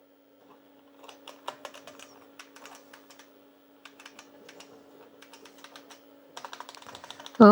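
Rapid clicking of an IBM 5155 computer keyboard in irregular bursts, typed over a steady low electrical hum.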